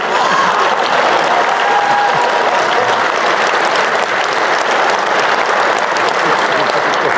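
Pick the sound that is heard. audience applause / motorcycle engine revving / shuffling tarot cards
audience applause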